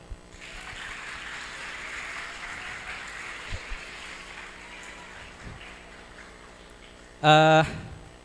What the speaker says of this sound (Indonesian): Tepuk tangan untuk lip Arab